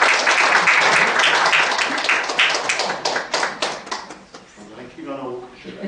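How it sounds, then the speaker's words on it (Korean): A church congregation claps loudly to welcome a speaker at an evangelistic gathering, with sharp individual hand claps that thin out as voices and talking take over. "우리 전도사님 나오실 때 박수로 크게 환영하십시다"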